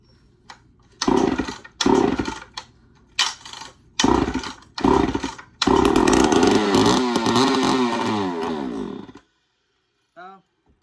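An early Poulan 245A chainsaw with a fuel problem fires in short bursts, coughing and dying several times, then roars for about four seconds before cutting out, with a voice talking in between.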